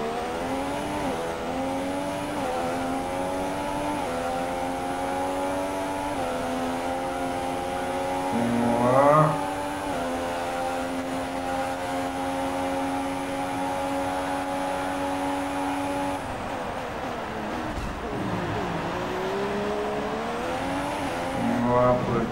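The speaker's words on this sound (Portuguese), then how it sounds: "Acelerando, segunda volta." Formula 1 race car at the 2016 Brazilian Grand Prix, its high-pitched engine whine rising steadily through the gears with sharp upshifts, loud and continuous, with a brief dip mid-run before climbing again.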